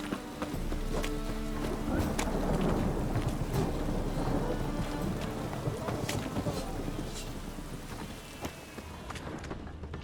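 Heavy rain pours steadily in The Witcher 3: Wild Hunt, with rumbling thunder and horse hooves clip-clopping through the wet, a dense continuous storm bed throughout.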